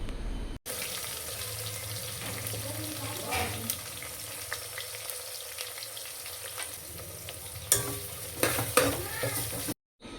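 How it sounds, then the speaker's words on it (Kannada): Sliced onions sizzle steadily in hot oil with cumin and curry leaves, close and fairly loud, with scattered spoon scrapes and a brief cut to silence at the start and end. "ಕೆಂಪುಗಾಗೋವರೆಗೂ ನಾವು ಈರುಳ್ಳಿನ ಆಯಿಲಲ್ಲಿ ಫ್ರೈ ಮಾಡಬೇಕು."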